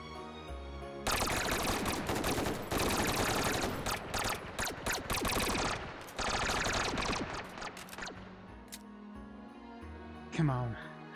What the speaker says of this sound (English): Ah, I'm getting shot.